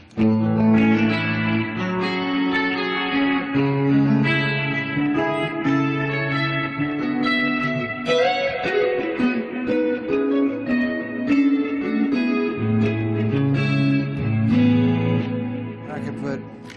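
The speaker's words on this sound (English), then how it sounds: "can also put a memory man on it, which has a little extra echo" Electric guitar played through a Memory Man echo pedal on a pedalboard, sustained chords and melodic lines with audible repeats trailing each note, loud and continuous throughout with no talking.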